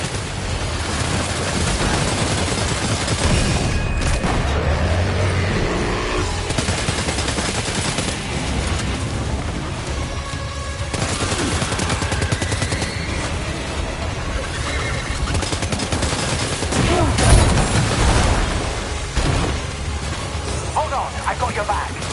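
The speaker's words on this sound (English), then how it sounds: "Opening fire now." Gunfire in the video game Death Stranding 2: rapid bursts and steady rattling shots run through a dense, busy battle mix, with a sharper blast near the middle and voices talking over the action.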